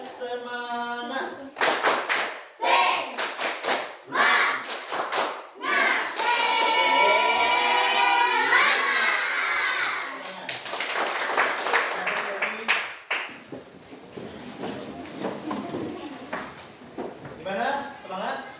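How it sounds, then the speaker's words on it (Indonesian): Students perform a rhythmic group clap in a classroom, sharp bursts of hand claps alternating with a teacher's voice and the class calling out together, clapping patterns repeating in short sets. "Kita akan melaksanakan tepuk semangat."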